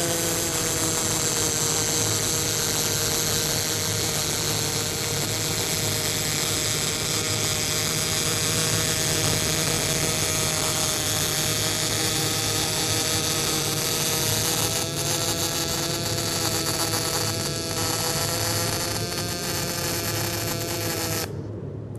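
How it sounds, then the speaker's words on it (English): A Lincoln PowerWave S-Series welding machine welding gives off a steady, loud electrical hum and buzz with sustained tones, running unbroken and even for over twenty seconds with no voices. "So what I'm going to do is set up some welding again"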